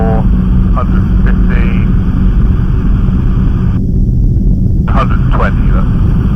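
C42 light aircraft engine throttled back during descent, a loud steady cockpit drone with constant engine roar, while a voice talks over it briefly.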